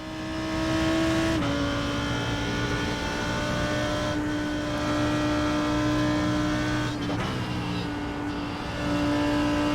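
A GT race car in a sim racing game at Phillip Island accelerates hard, its engine droning steadily loud with a few sharp gear-change dips, heard alone without talk.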